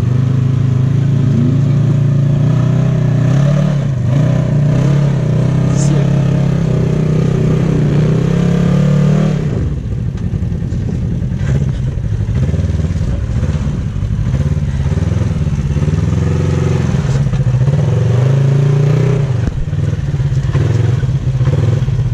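An off-road vehicle crawling over rocks with a tire stuck, its engine droning loudly and close, revving and straining with clattering, no voices.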